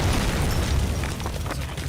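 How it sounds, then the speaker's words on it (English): A big explosion in a horror video game comes as a loud, dense roaring blast with crackling debris and a rumbling tail that fades slightly toward the end. "Pretty big explosion there."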